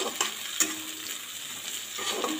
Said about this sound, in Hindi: गोटे बड़ पियाज काटी मुटा पकईदेली